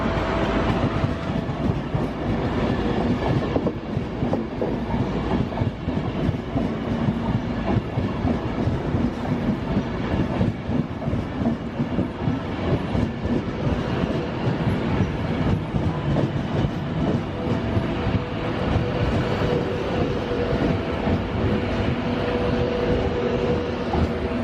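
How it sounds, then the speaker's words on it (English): A train rumbles steadily along the track into a busy London station, with rhythmic clickety-clack of wheels and a constant low roar, continuing throughout. "One train in, one train out."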